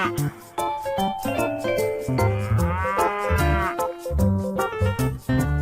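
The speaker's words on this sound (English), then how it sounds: "Buffalo." A buffalo lowing with deep, drawn-out moos that repeat over several seconds, loud and close, set among other farm animal sounds with no talking.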